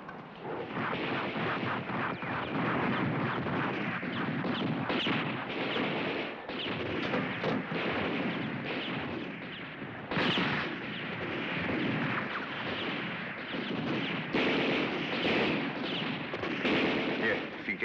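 Battle gunfire in a war film, with repeated rifle and artillery shots and bursts rolling over continuous shouting and dialogue, fairly loud and dense throughout.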